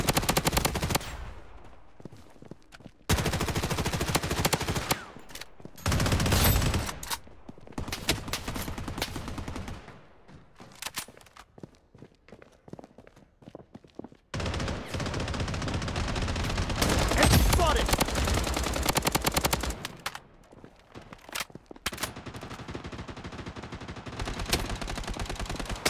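Bursts of automatic gunfire and scattered shots from a Blood Strike battle, loud and close, arriving in several intense stretches broken by short quieter gaps.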